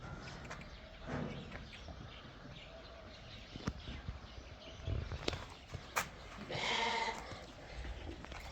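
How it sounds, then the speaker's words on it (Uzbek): Sheep for sale at a livestock market, including Kyrgyz breeds, bleating a few times at close and middle distance amid shuffling hooves and general market bustle. "mana qo'ylar sotiladi"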